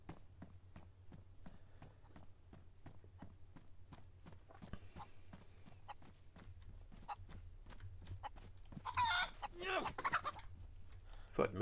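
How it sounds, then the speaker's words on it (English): Chickens clucking in the survival game DayZ, mixed with a steady clip-clop of footsteps and a low ambient hum, with a sharper burst of clucking and flapping near the end. "Of course there's another chicken just appeared there."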